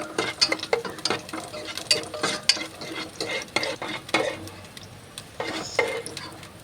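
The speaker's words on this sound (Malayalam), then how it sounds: "പാൻ ചൂടാക്കി അതിലേക്ക് നെയ്യ് ചേർത്തിട്ട് മുന്തിരി ആഡ് ചെയ്യാം. നല്ല രീതിയിലൊന്ന് വഴറ്റി" Raisins sauté in hot ghee in a pan, a spoon scraping and clinking against the metal in quick, uneven strokes over a light, crackling sizzle, close and fairly soft.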